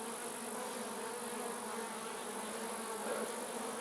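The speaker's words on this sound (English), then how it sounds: "They're sort of like pet bees at the moment." A single backyard hive of honeybees buzzes with a steady, soft, continuous drone, the insects close by and unbroken by any voices.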